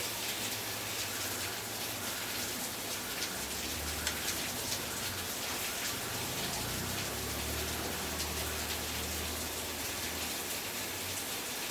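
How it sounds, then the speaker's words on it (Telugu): Heavy rain pours down continuously, a dense steady hiss of water with a faint low rumble underneath, no voices. "చాలా వర్షం వస్తుంది బయట."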